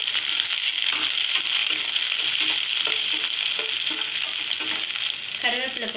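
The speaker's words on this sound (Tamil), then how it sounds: "அடுத்ததாக வச்சுருக்க வெங்காயம் போட்டுக்கலாம்." Onions sizzle steadily in hot oil with fenugreek seeds and dried red chillies for oil-fried brinjal kuzhambu, a loud, continuous frying hiss with light crackles and stirring, no voices.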